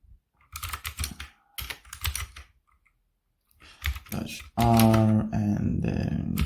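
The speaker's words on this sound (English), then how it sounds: "Just type chmod" Someone types a chmod command on a computer keyboard, giving quick bursts of close clicking keystrokes between short pauses, followed by a louder steady sound near the end.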